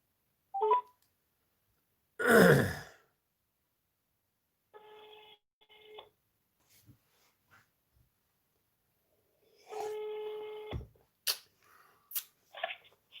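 A telephone number is dialed, short electronic tone bursts in clusters separated by silence, with a few clicks and a louder rustle early on, close and clear.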